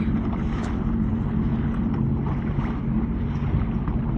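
A powerboat runs through moderate waves out on Lake Erie near the south shore, its engine drone steady and loud under constant wind buffeting on the microphone, with no pauses.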